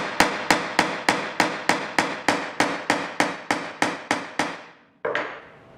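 Rapid, evenly spaced hammer blows driving a volume insert flush into wood, about fifteen sharp knocks in a steady rhythm, close and loud, then a brief pause and one final strike.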